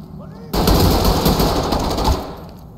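Sustained automatic gunfire in the tactical shooter game Ready or Not, a loud close burst lasting about two seconds before cutting off, with no talking over it.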